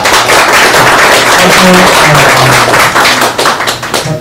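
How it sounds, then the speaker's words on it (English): Dense clapping from a crowd fills the room, loud and continuous, tapering into scattered claps near the end. "So let's give her a round of applause."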